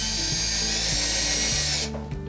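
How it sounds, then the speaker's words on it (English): A power drill whines loudly and steadily as it drives a wood screw through cardboard backing, stopping abruptly near the end. "drill it into place. You won't need much pressure to go through the cardboard backing"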